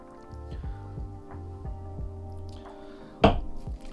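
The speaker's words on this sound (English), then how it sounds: "This is real water. Just spill onto the keyboard." Water drips and splashes onto a full-size keyboard, a few soft plops followed by one sharper splash near the end, close by.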